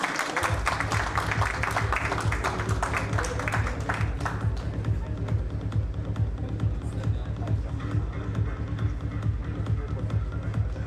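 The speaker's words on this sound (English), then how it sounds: "Please invite on stage with a round of applause, the Type of team." Audience applause as a team is invited on stage at a Fund Stack 3.0 event, a loud, steady wash of crowd clapping with shuffling that goes on throughout, thinning slightly toward the end.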